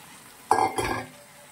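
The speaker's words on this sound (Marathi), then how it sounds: "मस्त अशी आपण डाळ पूर्ण परतून घ्यायची आहे।" Masoor dal stirred and sautéed in a pan with softened filling for a dal-onion dish, a brief close scrape and sizzle of two quick spatula strokes over quiet background.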